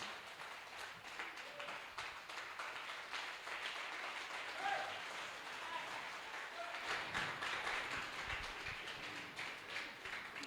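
A church congregation applauds steadily throughout, a dense wash of clapping with some voices mixed in, heard from a distance in a large room.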